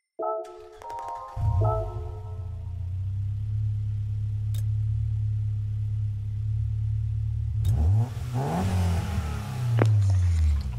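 A Mercedes road car in Gran Turismo 7 starts up and settles into a steady, loud low engine drone that holds for several seconds, then revs harder with rising, shifting tones toward the end, with no talk over it.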